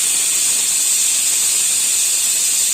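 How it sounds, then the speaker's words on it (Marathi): A pressure cooker whistling as steam escapes, cooking chana and tomato for a village-style chana palak masala; a steady, loud, continuous hiss runs throughout without pause. "शिट्या करून घेतलेल्या त्याच्या कुकरच्या"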